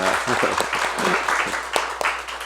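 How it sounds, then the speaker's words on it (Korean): A church congregation claps in welcome at a Christmas service, a short burst of scattered, fairly close handclaps mixed with talking voices. "큰 박수로 환영해 주시면 감사합니다"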